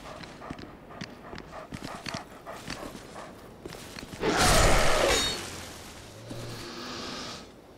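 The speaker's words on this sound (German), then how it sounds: "Hunde herlocken." Dog enemies in Dark Souls II scurry with quick, light footfalls, then a loud, harsh burst of snarling erupts and gives way to lower growling and game noise.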